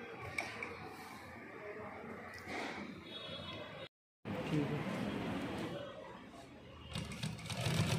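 A heavy duty top and bottom feed sewing machine runs steadily while winding a bobbin, a continuous mechanical whir that briefly cuts out and resumes, with a person speaking over it.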